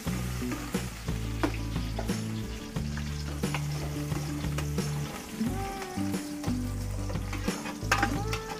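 Garlic sautéing in hot oil in a casserole pan, a steady loud sizzle and crackle with scattered stirring clinks, no talking.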